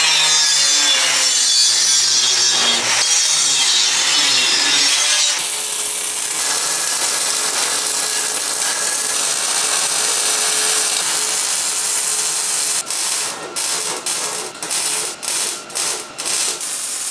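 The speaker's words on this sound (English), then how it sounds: "So now I can cut this out and theoretically it should fit out nice and snug against this pipe." A traced curve is cut from flat steel for a reverse-flow BBQ smoker, giving a loud, continuous grinding rasp from the cutting tool that ends in a series of short, choppy bursts.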